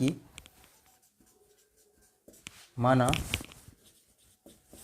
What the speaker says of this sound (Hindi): देखिए हम लोग पहले लिखेंगे